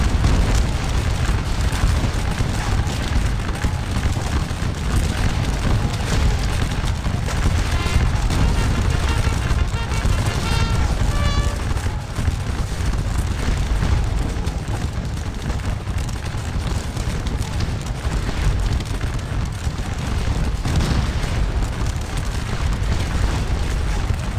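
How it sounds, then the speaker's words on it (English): Musket volleys between Coldstream Guards and French chasseurs in a Waterloo battle video game, a dense continuous rumble of crackling and booming shots from afar, with no talking. "the Coldstream Guards on our far left flank are continuing to exchange fire with the French chasseurs"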